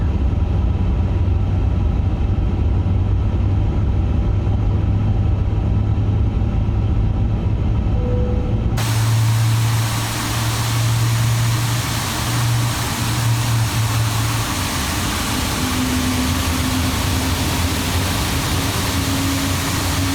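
An iniBuilds A350-900 in MSFS 2024 with engine 1 spooling up, a steady broadband roar joined by rising tonal whines that shift and climb as the turbine gains speed.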